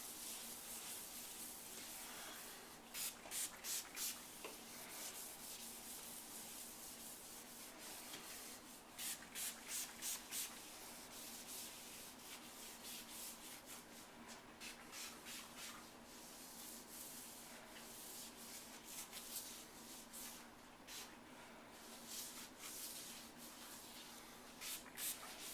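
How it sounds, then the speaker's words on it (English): Close, faint rolling and rubbing as a roller spreads sealer along the cut and polished edges of glass shower doors and stone, with soft repeated swishing strokes and no voices. "Make sure when you're doing the edges you roll and get the edges very well"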